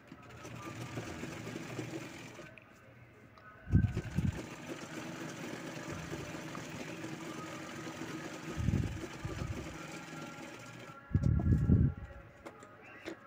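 A sewing machine stitches a Paithani silk jacket for a young boy in short bursts, steady mechanical whirring with brief loud thumps between runs, heard up close.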